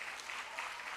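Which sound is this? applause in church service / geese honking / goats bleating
applause in church service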